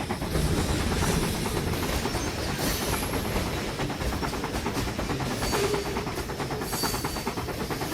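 A locomotive runs along track in a railroad video game, a continuous loud broadband rumble and hiss with faint rhythmic rail clatter, no voices.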